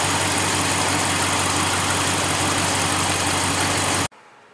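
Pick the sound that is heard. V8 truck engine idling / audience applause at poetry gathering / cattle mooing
V8 truck engine idling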